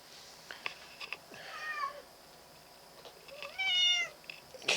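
A cat meowing to go outside, a few drawn-out meows, close and fairly clear, alone in a quiet room.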